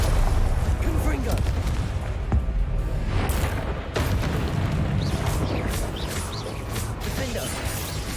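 The Confringo explosive spell in Hogwarts Legacy goes off repeatedly amid combat, producing booms, crashes and mechanical clatter over a dense, steady game soundscape, with a voice speaking over it.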